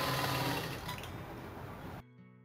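A sewing machine runs a seam over folded quarter-inch elastic on an off-shoulder top, a steady close whirring hum that carries for about two seconds and then cuts off abruptly.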